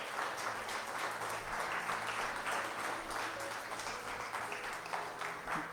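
Church congregation clapping in praise during a sermon, a dense, continuous roar of many hands applauding throughout, close and loud.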